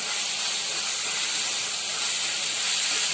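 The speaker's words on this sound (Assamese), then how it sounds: "এতিয়া মই ইয়াত পিঁয়াজখিনি দি দিছোঁ, পিঁয়াজৰ পেষ্টখিনি দি দিছোঁ" Onions and onion paste frying in a pan, a steady bright sizzling hiss that stays loud and even throughout with no talk.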